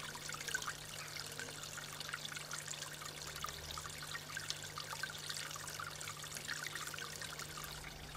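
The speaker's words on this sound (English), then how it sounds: "A water feature." Gentle, continuous trickling of water from a small garden fountain in Froyle, Hampshire, soft and steady, with a faint low hum underneath.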